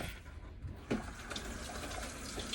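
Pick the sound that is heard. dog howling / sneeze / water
water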